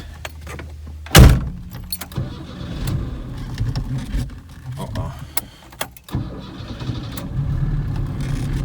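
The engine of a ZAZ Tavria pickup (ZAZ-11055) catches with a sharp, loud start burst, then settles into a rough idle with cabin clunks and rustling, and a voice talks over it.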